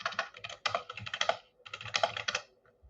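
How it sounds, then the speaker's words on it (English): Rapid keystrokes clatter on a computer keyboard in two quick bursts, close and crisp, with a short pause between them. "I can hear you typing."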